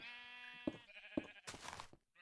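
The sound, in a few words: sheep bleating in Minecraft video game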